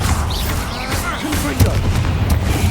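Confringo and Bombarda spell blasts in the video game Hogwarts Legacy boom and crackle in a dense, loud, continuous barrage, with a sharper burst partway through.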